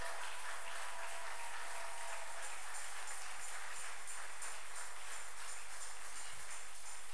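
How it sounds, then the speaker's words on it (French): A church congregation at a French-language worship service applauds and cheers together, a steady, faint wash of clapping that carries on evenly throughout. "Est-ce que tu peux bien acclamer le Seigneur?"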